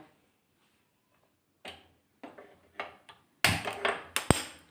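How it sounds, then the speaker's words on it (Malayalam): A gas stove burner being lit under a covered pressure cooker while cooking wheat payasam: a few faint clicks, then a sudden loud rushing burst with sharp knocks, close by. "അടുപ്പ് കത്തിക്കട്ടെ കേട്ടോ"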